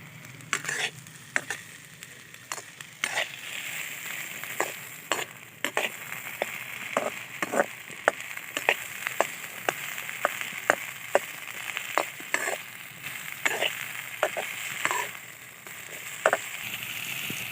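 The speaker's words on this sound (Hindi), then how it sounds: "भिंडियों के साथ ही भूनेंगे।" Okra frying with chillies, ginger-garlic paste, onion and tomato, a continuous bright sizzle broken by frequent quick clicks and scrapes of a stirring spoon against the pan, close up.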